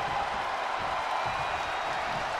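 Steady roar of a virtual arena crowd in the WWE 2K24 wrestling game, a continuous wash of cheering and noise with no distinct claps, even in level throughout.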